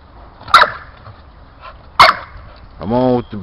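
A dog gives two sharp barks close by, followed by a voiced whine or yelp, with a person speaking around it during a pulling session in hot weather.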